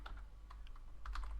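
Quiet keystrokes on a computer keyboard, a few light taps in quick succession for a Control F shortcut, close and soft.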